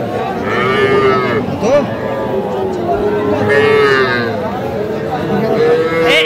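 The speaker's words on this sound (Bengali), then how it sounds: "আর এই পাশে বেশ কিছু বাছুর দেখতেছি, এগুলা কিন্তু একটু দেশি জাতের" Young local-breed heifer calves at a busy cattle market moo in long, loud, drawn-out calls, one after another, over faint crowd chatter.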